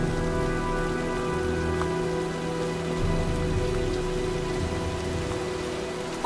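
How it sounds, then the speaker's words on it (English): Steady rainstorm in the video game Heavy Rain, a dense continuous hiss of rain on surfaces with a low rumbling undertone, constant and fairly loud throughout with no voices. "looks like a storm's coming"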